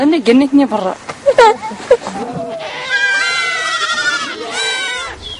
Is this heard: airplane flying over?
no